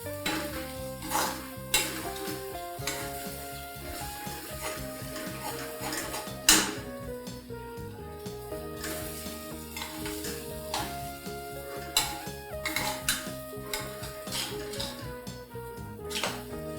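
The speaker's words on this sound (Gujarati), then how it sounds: "જ્યાં સુધી ઘી છૂટે ત્યાં સુધી આપણે એને હલાવવું." Wheat flour halwa being stirred as it fries in ghee in a pan, with a steady run of scraping and stirring strokes, faint sizzling and occasional utensil clinks against the pan, close and continuous under background music.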